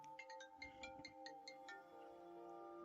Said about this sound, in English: I have to take a phone call.